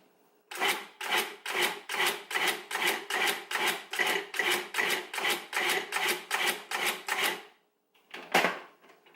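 A Cuisinart 14-cup food processor pulses onions to a fine mince, giving about sixteen short, evenly spaced bursts in quick rhythm, then a pause and one final burst, close and clear.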